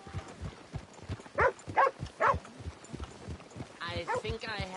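Hooves clop in an uneven rhythm in Red Dead Redemption under ongoing conversation, with a few louder snorting bursts from a horse nearby.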